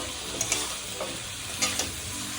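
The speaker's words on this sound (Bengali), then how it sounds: "এখন আমি ভেন্ডিটাকে দিয়ে দিচ্ছি ভালো করে মশলা আলু ভেন্ডি সব একসঙ্গে মিশিয়ে নেব" Okra and potatoes with spices fried and stirred together in a pan, a bright sizzle with a few quick scraping strokes of the spatula, close and alone.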